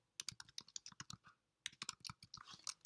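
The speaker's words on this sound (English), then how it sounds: "I'm just going to put in my username and password" Keys clatter on a computer keyboard as a username and password are typed, quick clicks in two bursts separated by a brief pause, close and fairly quiet.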